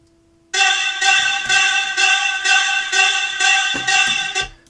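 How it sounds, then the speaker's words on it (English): A pitched vocal chop sample in a beat enters after a short held tone and repeats in a steady rhythmic pattern, bright and upfront, with a few lower hits near the end. "Now there's this extra vocal kind of chop playing"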